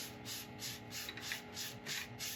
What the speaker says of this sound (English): so I'll go on with the Northern Grit abrasive paste